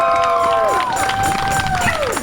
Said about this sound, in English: Can I get some claps and snaps?